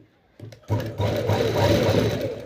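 Sewing machine stitching a round pleated nighty, starting with a few short bursts and then settling into a steady, fast mechanical whir close by, with a voice faintly present.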